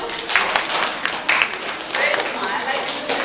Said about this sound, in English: Give her a clap too.